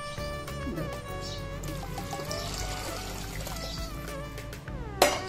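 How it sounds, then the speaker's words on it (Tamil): Water pours into a pressure cooker for tamarind rice in a continuous, ringing stream whose pitch rises as it fills, ending with a sharp metallic clink. "இப்போ இந்த ஜலத்தை சேர்த்து விடுறேன்"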